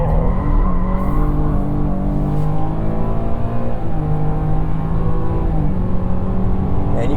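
2023 Chevrolet Blazer with traction control off accelerates hard out of a corner, its engine revving loud and steady while the tires squeal and skid throughout.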